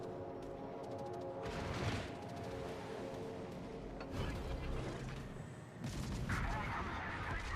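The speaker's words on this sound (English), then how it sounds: "now I'm getting shot at from both sides" Video game gunfire from both sides with booms and mechanical clatter, bursts of shots rising and falling over a dense, continuous game soundscape, with a voice talking at times.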